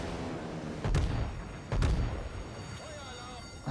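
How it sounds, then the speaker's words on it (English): Dive bomber bombs from an enemy Saipan carrier exploding around a warship in a naval battle game, two heavy booming blasts about a second apart amid a rumbling battle din, with a voice talking over it. "Enemy Saipan is dive bombing me"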